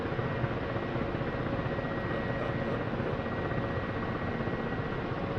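A Ka-50 helicopter in DCS runs its engines under rising throttle, a steady, loud, dense turbine roar with a faint whine and rotor rumble, unbroken and without talk.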